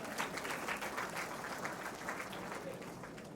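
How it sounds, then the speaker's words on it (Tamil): An audience applauds at a college day event, with a faint, even patter of many hands clapping that sounds distant and continues steadily without a clear break. "சுமாராக கைதட்டின எல்லாருக்கும் ரொம்ப நன்றி."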